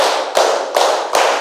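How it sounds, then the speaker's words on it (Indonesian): A group clapping hands in counted unison claps during an ice-breaking warm-up, four loud, evenly spaced claps ringing close and full, with no talk between them. "Tepuk 1, tepuk 2, tepuk 3"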